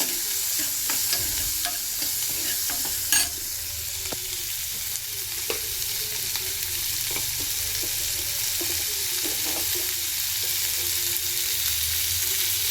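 Onions fry in an oiled pan with a steady, loud sizzle and hiss, broken by occasional scraping and stirring clicks of a utensil, close up and continuous with no talking.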